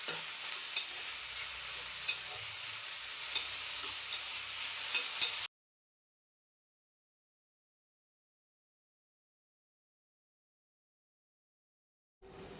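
Chopped onions stirred and fried golden brown in a pan for a dhaba-style chicken kheema, a steady close sizzle with scraping stir clicks for about five seconds, then silence.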